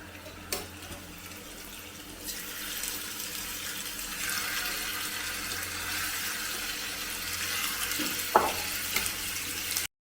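Chicken pieces dropped into coconut oil in a pan on medium flame, a soft sizzle that swells into a steady, broad frying hiss with a couple of small knocks, no talking.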